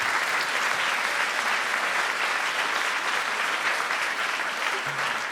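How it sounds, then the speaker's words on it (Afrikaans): A congregation claps hands inside the NG Kerk church in Gouritsmond, a steady, dense wash of applause filling the room at even loudness from start to finish with no voices over it. "gee vir hulle lekker hande klap"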